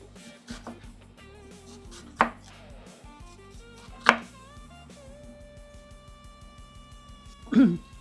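A knife chops onions on a board for sweet and spicy salsa, a rapid run of crisp, close taps in quick rhythm, broken by a few louder knocks and clatters.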